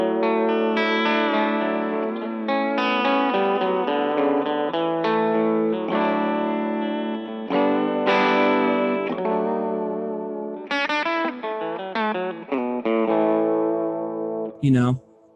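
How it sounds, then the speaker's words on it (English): Guitar played through an Aqueduct vibrato pedal set to random mode, notes and chords wobbling with a seasick, tape-like pitch drift, steady and upfront with no voice. "The random mode again, like from the last demo, kind of sounds like tape modulation."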